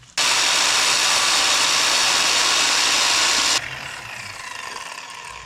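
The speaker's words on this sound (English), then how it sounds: "I think we're gonna cut that, hammer it down" A power tool cuts through go-kart steering metal with a loud, harsh, continuous grinding roar for about three and a half seconds, then cuts off sharply, leaving a quieter background hum.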